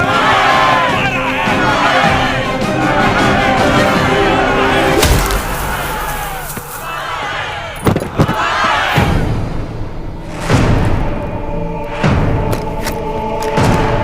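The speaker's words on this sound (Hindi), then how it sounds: "भीड़ तो देखिए, देखिए चारों तरफ" A crowd of villagers shouts loudly in a scene from the Hindi-dubbed action film Salaar, a dense roar of many voices broken by thuds and sharp impacts, with single voices calling out above it.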